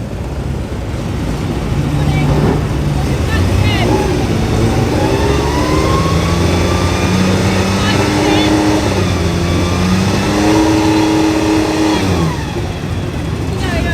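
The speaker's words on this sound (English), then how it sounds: "revs from this gorgeous Datsun 240Z race car" A Datsun 240Z race car with a Nissan straight-six engine revs repeatedly at a classic sports car race at Oulton Park, rising and falling pitch sweeps sustained and loud, with talk and circuit noise mixed in.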